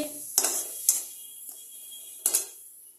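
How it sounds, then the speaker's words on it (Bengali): Date palm jaggery stirred in a pan, giving a few separate metallic scrapes and clinks of a spoon against the pan over a quiet background. "খেজুরা গুড়টা দিয়ে এভাবে নাড়াচাড়া করছি।"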